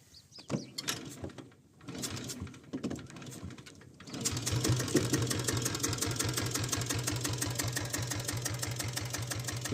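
A diesel Royal Enfield Bullet motorcycle engine starts and settles into a steady, loud idle with an even, rapid thumping beat after a few seconds of quieter handling noise.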